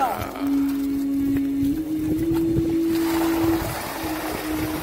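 Water gushing out of an old, self-built desert well system in Tharparkar: a steady rushing that swells in the second half, over a sustained tonal hum.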